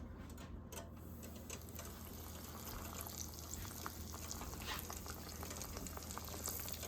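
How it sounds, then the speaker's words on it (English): Breaded chicken fried steak frying in hot oil, a continuous dense crackling sizzle with fine popping bubbles, close and steady throughout. "then we're going to move it right into our oil"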